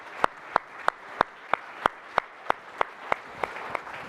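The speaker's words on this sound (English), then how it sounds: "please give a round of applause to our panelists" Audience applause for conference panelists at a cryptocurrency event, heard as a few sharp, evenly spaced claps of moderate loudness with a steady crowd hiss underneath.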